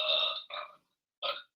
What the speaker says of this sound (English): That's a loud burp, eh?